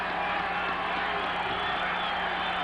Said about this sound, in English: this crowd comes to life